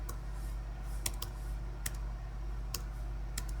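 Computer mouse clicks on a website, sharp isolated clicks spaced irregularly, about five or six over a steady low electrical hum, fairly close and moderately quiet.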